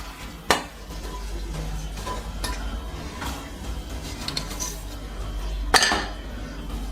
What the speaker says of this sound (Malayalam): അപ്പം നമുക്ക് ഈ കടല ഇതിലോട്ട് ആഡ് ചെയ്ത് കൊടുക്കാം.